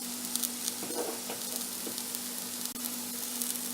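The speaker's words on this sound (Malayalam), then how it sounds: "ഇനി ഇതിലേക്ക് നമുക്ക് കറി ലീവ്സ് ഇടാം" Curry leaves dropped into hot oil for a Kerala coconut-free moru curry, a steady bright sizzle with small crackling pops and a light stir, close and continuous without talk.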